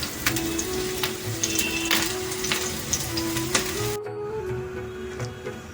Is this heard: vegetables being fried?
yes